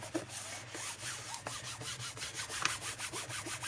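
Paper being trimmed for a handmade folio, a steady rhythmic rasping and scraping stroke repeated over and over at close range, fairly faint and heard alone without speech.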